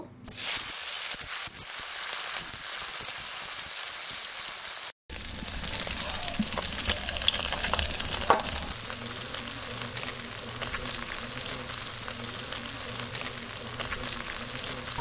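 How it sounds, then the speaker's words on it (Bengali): Small pond fish frying in hot mustard oil in a wok, a steady dense sizzle and crackle that runs continuously and grows fuller after a brief break, close and moderately loud. "এবার আমি এই চুনো মাছগুলো ভেজে নেব।"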